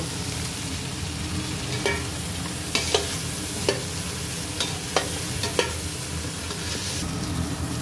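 Soaked soybean chunks are stirred in a pan for veg pulao with winter vegetables, a steady soft sizzle under scattered scraping clicks of the spoon against the pan.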